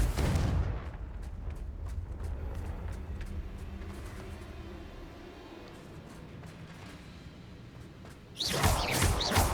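Confringo fire-blast spell explosions in the video game Hogwarts Legacy: a continuous deep, rumbling roar of blasts that fades slightly, then swells again into a loud burst at the end.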